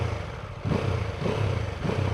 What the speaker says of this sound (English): Not the most throaty of exhaust pipes